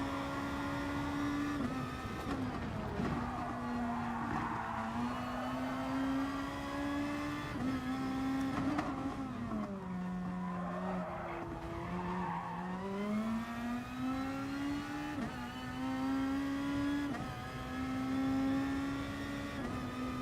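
Race car engine in the GT Sport video game, loud and continuous with a steady high whine rising and falling through gear changes, tyres squealing at moments, no talk.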